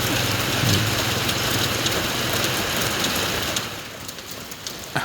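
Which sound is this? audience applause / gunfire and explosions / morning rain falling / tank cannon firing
morning rain falling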